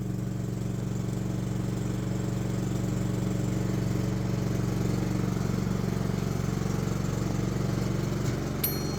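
PK4200 inverter silent generator running with a steady, low, even hum at moderate distance throughout, unchanging in pitch, with a faint click near the end.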